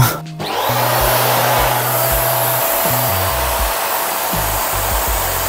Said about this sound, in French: Là on va allumer l'aspirateur et vous allez comprendre son premier problème.